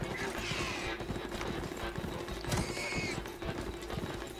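A machine mount gallops during a race in the game Horizon Forbidden West, with steady rhythmic hoofbeat-like clatter and brief whinny-like mechanical cries, close and moderately loud, with voices talking softly underneath.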